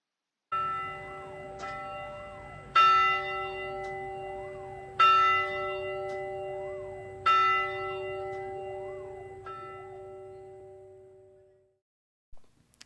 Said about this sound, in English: the bell in the bell tower has been restored and now rings at the beginning and ending of each school day